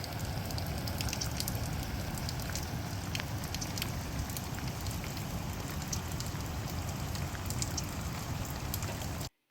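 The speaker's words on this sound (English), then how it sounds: "It rained all through the night and then all through the next morning." Steady rain falls at a coastal campground by the sea, a dense even patter with scattered louder drops that runs unbroken for several seconds before stopping abruptly.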